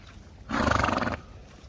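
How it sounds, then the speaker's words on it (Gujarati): A mare lets out a single loud, close neigh lasting under a second, a throaty pulsing whinny against a quiet outdoor background. "હા મિત્રો, પાછી ઘોડી ઊભી થઈ ગઈ આટો મારીને"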